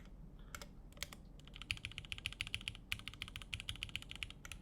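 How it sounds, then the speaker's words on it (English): Steady typing on a computer keyboard, with dense, irregular clusters of close key clicks and occasional heavier spacebar thumps, heard alone and fairly quiet. "When you sit and you type on your keyboard"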